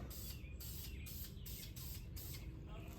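Khaki spray paint hisses from a can onto a deer blind in a camouflage pattern, with short repeated bursts of spray close to the microphone, separated by brief gaps.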